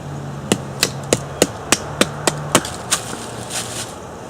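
A knife blade batoned through a knotty piece of wood, about ten sharp, evenly spaced thwacks of a baton striking the spine, loud and close and fading slightly at the end.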